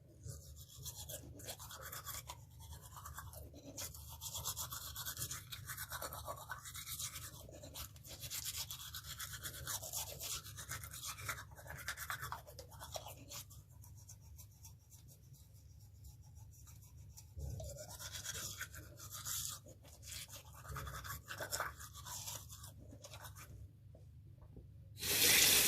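Close-up scrubbing of a bamboo toothbrush against teeth, rhythmic and bristly, continuing for a long stretch with brief pauses and a louder clatter at the end.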